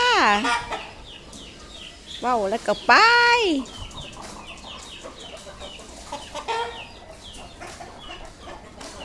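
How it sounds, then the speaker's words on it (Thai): Chickens cluck and squawk nearby while being fed rice, with a few loud rising calls early on and softer clucking continuing after, under a woman's brief speech. "น้องไก่กินข้าวนะคะ"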